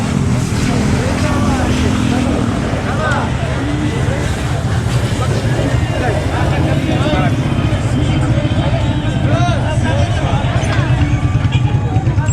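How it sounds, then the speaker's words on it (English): Busy street traffic in Erbil, Iraqi Kurdistan, full of motorcycles, a constant roar of engines and road noise mixed with crowd chatter, close and loud throughout. "Motorcycles galore."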